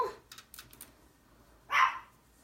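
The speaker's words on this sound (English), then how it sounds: "you can probably hear my dog barking" A dog barks in the background of a room where someone is making cards with gold foil, giving a few quiet, distant barks followed by one louder burst near the end.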